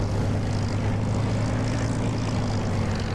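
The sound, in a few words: 1949 Spitfire propeller aircraft engine, DCS flight simulator video game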